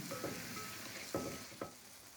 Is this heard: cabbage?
yes